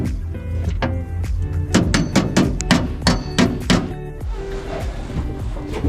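A hammer pounds out dents in a VW Bus metal panel in quick uneven bursts of sharp clanging strikes, close and loud, then stops and leaves a quieter rustling.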